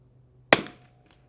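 A single sharp rifle shot from a Winchester 52B at a 100-yard range: one loud crack with a quick, fading tail, followed by silence.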